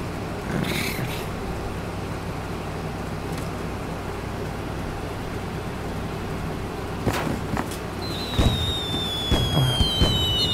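Fireworks burning in the fireplace of the video game Little Inferno, with scattered crackling pops and sharp bangs over a steady background, plus a rising whistling streak near the end.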